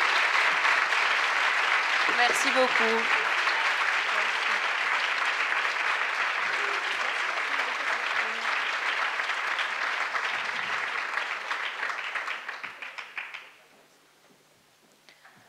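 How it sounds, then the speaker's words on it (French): Audience applause at a talk-and-discussion event, sustained and dense for about thirteen seconds before tapering off and fading, with a brief spoken thanks over the start. "on peut les applaudir bien fort"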